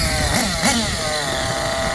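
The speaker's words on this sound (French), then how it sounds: "je donne des petits coups d'accélération, bien faire le moteur monter en température" A nitro-powered Sworkz Apollo 2 RC buggy engine screams close up in a high, buzzing whine, with short blips of throttle rising and falling over a constant loud idle.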